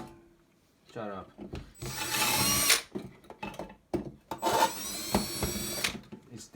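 Loud whirring drill bursts with grinding, metallic scraping as the drill bit hits a metal box, separated by short clatters and clicks, close by.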